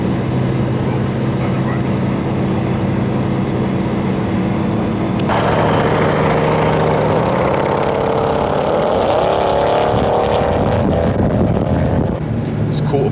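A BMW car cruises along a road with a steady, close engine drone and road rumble, rising into a harder revving surge partway through. People talk over the noise at times.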